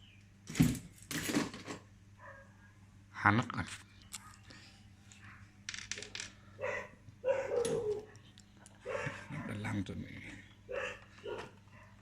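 A dog barks in short bursts at intervals while a person talks over it indoors, in a home where a microwave oven's buttons are being replaced.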